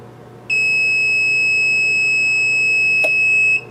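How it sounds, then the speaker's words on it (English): VEVOR heat press timer giving one long, steady, piercing electronic beep lasting about three seconds, loud and close over a faint hum. "So there's the beep."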